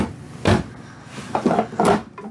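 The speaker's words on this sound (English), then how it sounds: "Soft latch doors." Soft-latch cabinet doors closing inside a 2021 Coachmen Mirada 32 SS motorhome: three muted wooden knocks, close and fairly soft, spaced across a short quiet stretch.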